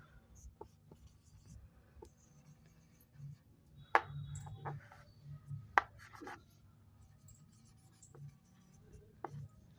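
A pen scratches and taps on paper in short strokes while a maths problem about the height of a plane above the sea is worked out, faint and close, with scattered soft knocks in a quiet room.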